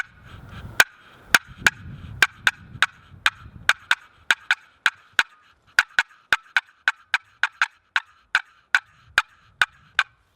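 Sharp, rapid clucks and cuts repeat in an abrupt, uneven rhythm, loud and close, mimicking a turkey hen cutting on a turkey call, with light rustling early on.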